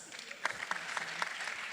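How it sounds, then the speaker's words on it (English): Audience applause in a seminar hall, a steady wash of clapping from a crowd lasting under two seconds, moderately loud with a few sharper claps standing out. "Let's clap for us."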